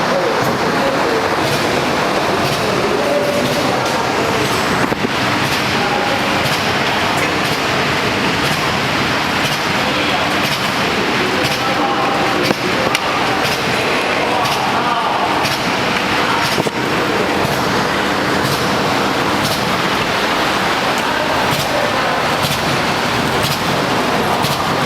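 A Soontrue bread and biscuit packing machine with a fin splicing unit runs on steadily, a dense, loud mechanical wash with faint ticking throughout and no pauses.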